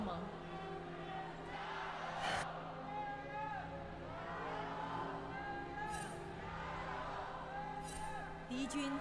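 A crowd at an esports arena during a League of Legends LPL match makes a steady murmur of voices, with scattered whoops and occasional shouts rising over the background hum of the hall.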